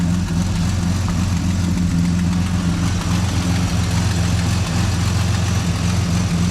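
A turbocharged 3800 V6 Camaro idles steadily with its custom 3-inch exhaust, a loud, even low rumble running throughout with no talk over it.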